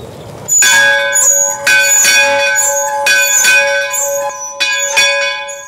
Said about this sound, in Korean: 지금도 종을 칩니다.